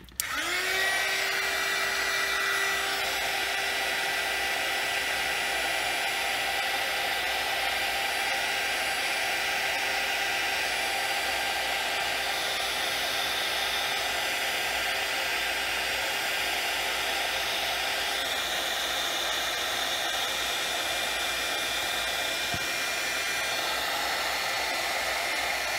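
A heat gun blasts steadily on shrink tubing during a vape build, a loud, constant airy roar with a faint whine that runs unbroken for the whole stretch, no voices over it.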